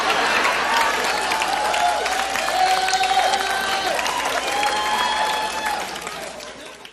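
A studio audience claps and cheers in a broad, steady wash, holding strong for several seconds and then tapering off toward the close.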